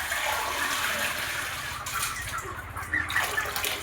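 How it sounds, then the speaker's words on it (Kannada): Water poured steadily into a cooking pot while making rice upma, a continuous close splashing and gushing stream that holds at an even level, with no talk over it. "ನಾನಿಲ್ಲಿ 4 ರಿಂದ 5 ಕಪ್ ನೀರು ಹಾಕ್ತಾಯಿದ್ದೀನಿ"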